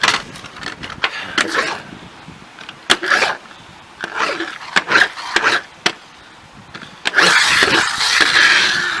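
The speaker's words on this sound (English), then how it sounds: "Okay, it's a friction car." A toy friction car, a Hot Wheels-style small car, whirs and squeals in short bursts as its wheels are pushed and spun, with clicks and rattles between runs.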